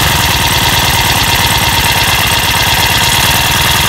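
A Honda Harmony FG-100 tiller's small gas engine idles after a cold start, a loud, close, steady rapid putter with an even pulsing rhythm and no talk.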